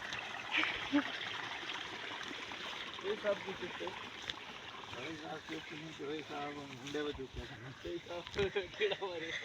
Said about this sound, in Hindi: ये जो पानी की आवाज़ आ रही है ना